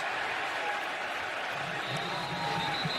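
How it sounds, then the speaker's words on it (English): Stadium crowd at a Missouri vs Oklahoma college football game roars in a sustained, loud wash of screaming and cheering, with a faint commentator voice underneath. "Crowd screaming for his face mask"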